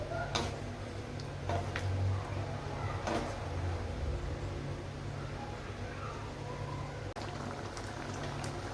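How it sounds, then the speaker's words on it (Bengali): Chickpea dal boiling and thickening in a pot, with soft steady bubbling and occasional small pops and ticks under a low constant hum, close and fairly quiet, with no talking. "ডালটা ফুটে বেশ অনেকটাই ঘন হয়ে গেছে"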